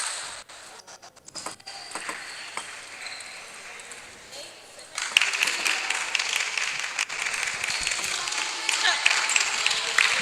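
Crowd applause at a table tennis championship in East Africa, a steady wash of clapping that swells louder midway and keeps going, with a commentator talking over it.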